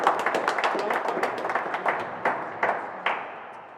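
Crowd at a women's world championship squash plate final breaks into scattered clapping, a run of quick sharp claps that thins out and fades over a few seconds, with a commentator's voice running underneath.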